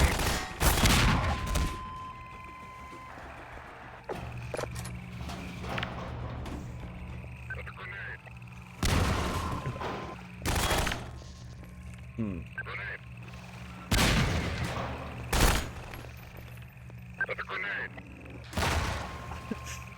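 Half-Life 2 game combat with a grenade blast, several loud sharp bursts and booms spaced across the stretch over a background of game ambience and radio-like tones, with a player talking between them.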